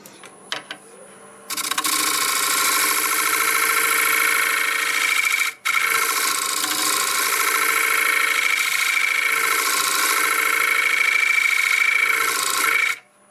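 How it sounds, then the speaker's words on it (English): Oak bowl spinning on a wood lathe while a negative rake scraper cuts it, a loud steady scraping hiss over motor whine that starts after a few soft knocks, breaks off briefly midway, then continues before stopping. "I may use the negative rake scraper and we'll cut deeper after that."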